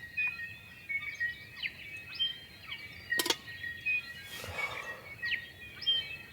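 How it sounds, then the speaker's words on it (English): Several birds chirp and sing repeatedly in the morning at a moderate distance over a quiet outdoor campsite background, with a brief sharp click partway through. "Listen to these birds."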